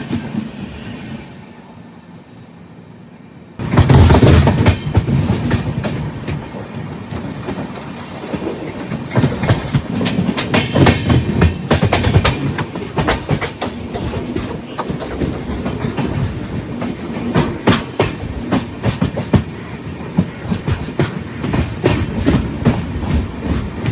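The Madras Mail 12624 runs from Kerala to Chennai, heard from inside a 2AC coach: a few seconds of quiet give way to a loud, continuous rumble with rhythmic clickety-clack of wheels on rail joints.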